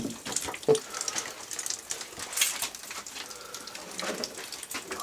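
Waste water gushing and splashing out of an old copper stack pipe, a steady, close, broadband rush with scattered drips and splatters.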